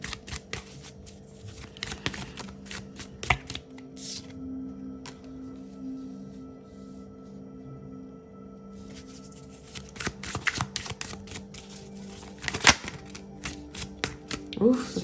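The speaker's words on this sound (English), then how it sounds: "the cards are flying out of a deck" Tarot cards riffled and shuffled in bursts over roughly fifteen seconds, with sharp flutters and slaps as cards fly out of the deck, loud and close, with a quieter stretch in the middle.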